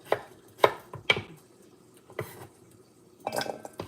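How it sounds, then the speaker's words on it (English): A knife chops chayote on a cutting board for a Khmer chicken stir-fry, giving about five sharp, close thuds at irregular intervals, the last one a quick cluster of cuts. "It does not matter how you cut it, as long you're happy with the size of the serving and the vegetables."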